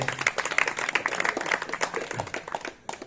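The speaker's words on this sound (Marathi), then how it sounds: "या सहभागी झालेल्या सर्व स्पर्धकांसाठी एकदा जोरदार टाळ्या होऊन जाऊ." Audience applause for participants at a village Navratri festival record dance competition, a dense patter of many hands clapping for about three seconds before tapering off.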